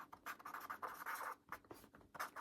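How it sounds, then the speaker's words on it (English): A pen or marker scratches across paper in short, quick strokes as words are written during expressive art, close and quiet with brief pauses between strokes. "I'm going to write the word joy"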